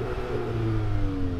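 Several VW Golf GTI-family hot hatches rev hard against their soft rev limiters, a steady loud engine drone with rising harmonics held close by throughout.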